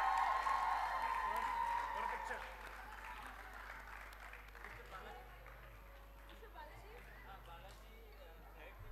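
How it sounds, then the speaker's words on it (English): An audience at a robotics championship award ceremony claps briefly at the start, the applause fading within a couple of seconds into quieter room murmur and people talking. "Give him a round of applause"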